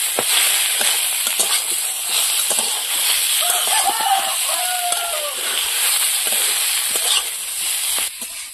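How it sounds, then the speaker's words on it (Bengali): Taro chunks sautéing in a pan with salt and turmeric, a steady soft sizzle with occasional stirring scrapes under a voice speaking Bengali. "কচুটা একটু কষিয়ে নেব।"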